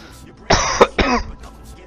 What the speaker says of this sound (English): The coughing's probably super loud because the mic's right near my face